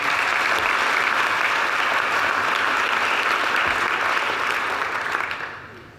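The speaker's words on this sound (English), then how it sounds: "So how about a round of applause for them?" Sustained applause from an audience at a college of veterinary medicine 75th anniversary program, honoring faculty; dense steady clapping fills the room for about five seconds, then fades out.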